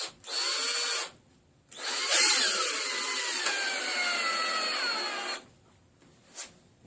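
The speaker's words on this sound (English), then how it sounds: "I'm using the electric screwdriver" A power screwdriver whirs in a short burst, pauses, then runs in a long steady drive as a countersunk screw bites into wood, with a final brief whir.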